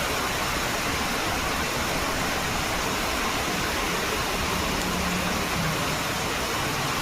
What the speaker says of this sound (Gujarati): આંધ્રા ધોધ વરસાદ પડે છે.